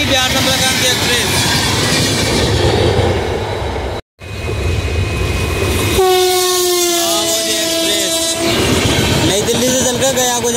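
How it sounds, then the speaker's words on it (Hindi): The Bihar Sampark Kranti Express roars through Aligarh Junction at superfast speed with a constant loud rumble and rattling wheels, briefly cut off, then a long sustained horn blast sounds over the noise. "बिहार संपर्क क्रांति एक्सप्रेस अलीगढ़ जंक्शन को क्रॉस करते हुए बहुत ही सुपरफास्ट स्पीड में"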